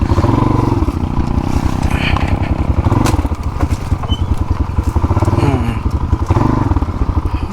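A motorcycle rides along a rough off-road dirt trail, its engine chugging in rapid, throbbing pulses with bumps and thuds as it struggles for grip, loud and close throughout.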